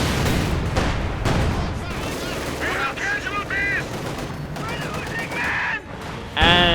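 Battle din from Company of Heroes 2: rapid rattling machine-gun bursts and scattered rifle shots with booming impacts, dense and continuous, ending in a sharp loud blast, with commentary talk running underneath.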